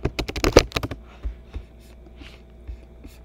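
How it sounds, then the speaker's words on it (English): Quick keystrokes on a computer keyboard come in a dense burst of close clicks at the start, then trail off into a few scattered taps over quiet room noise. "You type motivation letter."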